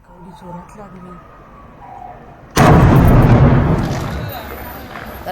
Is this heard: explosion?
yes